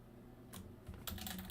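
Typing on a computer keyboard: a quick burst of close key clicks that grows busier toward the end, with no talking.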